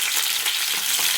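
Green chillies and tomatoes frying in a pan, a close, dense, crackling sizzle with steady bubbling hiss throughout, no voices.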